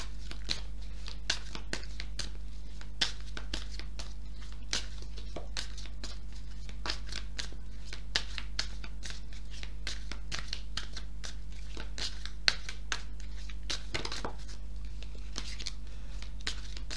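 Oracle cards being shuffled for a tarot-style reading, a steady run of soft papery riffles and crinkles with occasional sharper snaps, close and quiet over a constant low hum.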